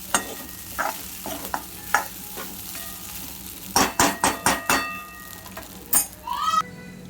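Soaked sabudana stirred in a pan for khichdi, with a faint sizzle under repeated spoon scrapes and a quick burst of several clinking strokes near the end.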